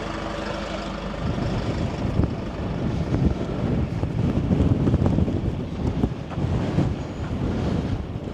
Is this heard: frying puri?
no